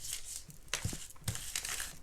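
Paper astrology sign cards are shuffled by hand, making short, close bursts of papery rustling and crinkling in quick succession.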